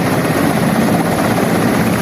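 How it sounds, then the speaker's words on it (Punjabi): An army helicopter roars loudly and steadily nearby, its rotor wash a constant dense thrum with no voices. "ਇੱਕ ਆਰਮੀ ਵਾਲਿਆਂ ਦਾ ਹੈਲੀਕਾਪਟਰ ਉਤਰਿਆ"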